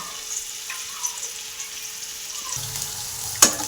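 Onion, chilli, carrot and capsicum fry in a pan for homemade noodles, a quiet steady sizzle with a few faint stirring touches and one sharp clink near the end.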